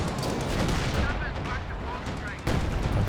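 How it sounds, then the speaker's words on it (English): A bunker-busting artillery barrage in a Company of Heroes 2 match hits as a dense, continuous rumble of heavy explosions and rapid gunfire. It stays loud throughout, with a brief dip before it surges again. "Bunker busting barrage coming in."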